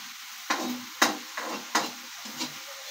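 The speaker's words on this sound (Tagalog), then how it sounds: "Iniscrumble na yung ating itlog" Egg being stirred and scrambled with a utensil in a pan of sautéed bitter gourd, five distinct scraping knocks at an uneven pace over a soft background, no talking.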